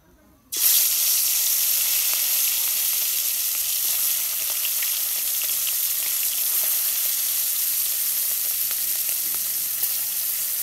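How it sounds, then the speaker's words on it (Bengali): Fish drops into hot oil in a wok, setting off an abrupt, loud sizzle that holds steady and hissing for the next ten seconds, with faint stirring ticks. "এখন আমি মাছ দিয়ে দেব"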